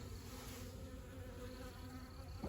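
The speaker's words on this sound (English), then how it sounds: "we're going to shake out all of the bees" A mass of honey bees from a newly installed package buzzes in a dense, continuous drone, close and steady with no voices.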